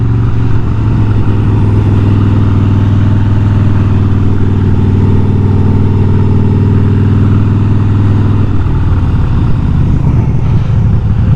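Harley Davidson motorcycle engine rumbling steadily at close range during a ride, a deep, loud, continuous drone with a shift in tone near the end as the bike changes speed.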